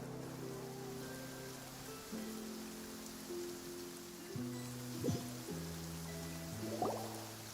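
Steady rain falls in a Genshin Impact game scene, a soft continuous patter with faint drips, heard under a sustained low musical drone that shifts chords.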